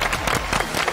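An audience bursts into dense, continuous applause during a variety show segment on Matsu's Nangan and Beigan islands, a brief full wash of many hands clapping.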